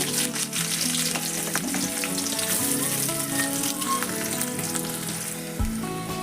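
Mustard seeds fry in hot oil for a North Karnataka brinjal palya, a dense, close sizzle with rapid crackles and pops running continuously, with no talking.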